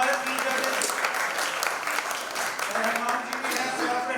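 Audience applause for the three judges at the Udaan Idol Little Champs grand finale in Mumbai, a steady bright clatter of clapping lasting throughout, with voices mixed into the crowd noise.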